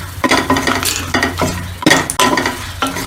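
Dried red chilies and ginger fry in hot oil for a chutney, a loud, close, continuous sizzle broken by repeated scraping stirs of a spoon against the pan, with no voices.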